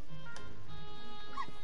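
A stray dog in the video game My Time at Portia gives a couple of short yips and a thin whimper over soft background music, faint and brief.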